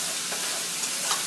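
Bacon for carbonara fries in a pot with a dense, even hiss of hot fat, heard up close and loud, with a few faint pops and no voices.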